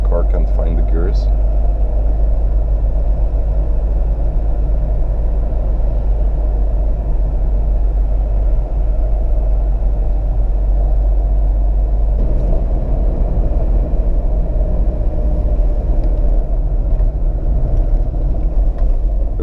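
A 1987 Volvo 240 station wagon drives along with a steady low engine drone and road rumble throughout, loud and close from inside the cabin, and a brief shift in tone partway through.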